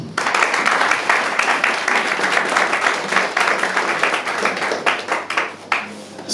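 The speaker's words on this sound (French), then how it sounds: "je vous applaudis" Sustained applause from a crowd of students at the opening of a hacking night event, dense steady clapping that thins toward the end.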